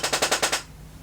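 A quick run of five sharp creaks from a chair in need of oil, in a rapid even rhythm, close and loud, then quiet.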